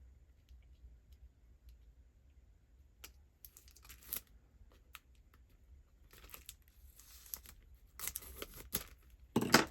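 Scissors snip open a plastic glue packet with a few quiet, crisp cuts and crinkles, sparse and close, with rustling handling sounds between them and a louder crinkle at the end.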